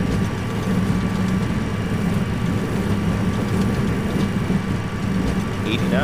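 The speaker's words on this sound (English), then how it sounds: "takeoff thrust set." An MD-82 airliner's jet engines run at takeoff thrust, heard from the cockpit as a loud, steady broadband roar with a low rumble that stays even from start to finish.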